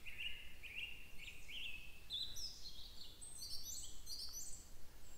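Birdsong of an unfamiliar species in a park in Kislovodsk: repeated high whistled and trilled phrases, clear but fairly faint against a soft, quiet outdoor background.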